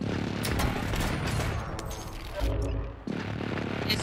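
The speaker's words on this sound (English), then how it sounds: "friendly precision airstrike inbound" A precision airstrike in a Call of Duty game hits as a dense, continuous roar of explosions and rapid blasts, briefly dipping near the end before the barrage surges back at full loudness.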